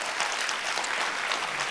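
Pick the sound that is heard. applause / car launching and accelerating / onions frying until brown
applause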